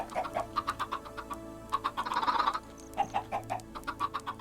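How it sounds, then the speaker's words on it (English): Chickens in the TerraFirmaCraft video game cluck in a steady series of short, fairly loud calls, with a brief burst of overlapping flustered squawks in the middle. "These stupid chickens aren't moving."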